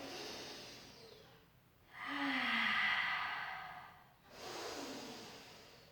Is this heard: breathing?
yes